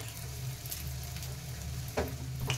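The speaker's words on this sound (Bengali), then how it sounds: "এটাকে ঝেড়ে নিয়ে এই গরম তেলে ছেড়ে দেবো।" Cauliflower coated in flattened-rice powder drops into hot oil, a steady soft sizzle with a sharper burst as a piece goes in.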